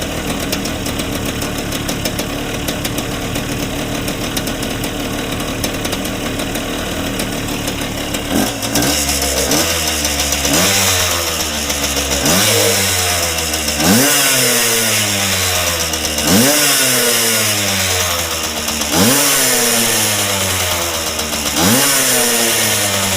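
A vintage Hodaka motorcycle engine with a new ignition runs loud and close, starting as a steady rough drone and then revving up and down in repeated surges, sounding untuned, with no voices.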